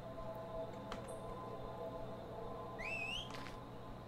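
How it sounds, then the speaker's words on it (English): A person whistles outdoors in a swamp, giving one short, rising, warbling note near the end over steady background hiss. "let's go ahead and whistle"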